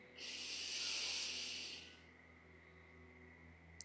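One slow, deep breath is drawn in and let out as a soft, close airy rush lasting almost two seconds, then a quiet pause with low background hum.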